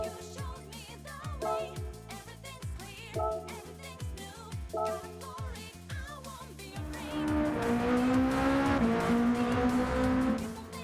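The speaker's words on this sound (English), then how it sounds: "This car kind of sounds like a Civic." A race car engine in the Gran Turismo 7 video game revs up and down through repeated gear shifts, then settles into a loud, sustained high-rpm drone, with faint tire squeal and no talking over it.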